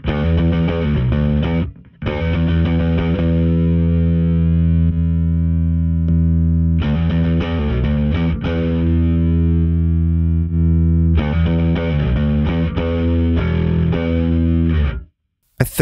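A bass guitar with a thick, gritty tone through a Joyo Avallon or Origin Effects Cali76 Compact Deluxe compressor pedal holds long, low sustained notes, cutting off briefly between phrases.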